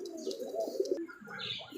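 Pigeon, a female Rasgolla breed, cooing in a loft with a few soft low coos and faint chirps close by.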